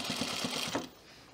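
Sewing machine stitching through thick, uneven fleece binding on a pullover, a quick run of rhythmic needle thumps that stops partway, leaving a quiet tail.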